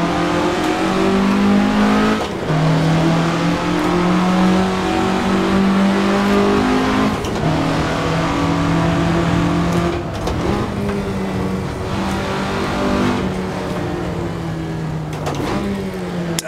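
A 1967 Russell Alexis Mk.14 Formula Ford engine in the game Assetto Corsa drones loudly and continuously, its pitch climbing and dropping through gear changes, with occasional sharp shifts.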